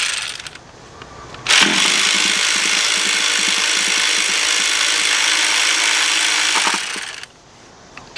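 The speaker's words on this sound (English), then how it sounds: "I'm going to be using a cordless ratchet." A cordless ratchet loosens a starter bolt on an Infiniti or Nissan truck. It whirs loudly and evenly for about six seconds, starting and stopping abruptly against quiet garage background.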